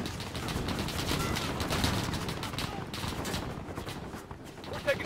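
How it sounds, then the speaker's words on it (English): Call of Duty Modern Warfare (2019) embassy firefight, with dense continuous automatic gunfire and rapid overlapping shots from a loud, close battle; voices call out over the shooting. "Taking fire from the residence."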